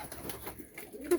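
Pigeons cooing inside a pigeon loft on a spring day, soft low coos repeating close by over a brief stretch with faint rustling.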